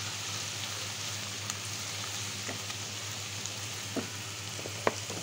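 Shol fish do-peyaja fries in a pan with a steady, close hiss of sizzling oil, broken by a few small pops and spatters.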